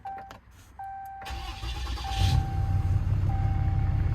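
A Ram Mega Cab pickup's 6.7L Cummins diesel cranks and fires up after a steady chime, catching with a rising rumble and settling into a loud, close idle.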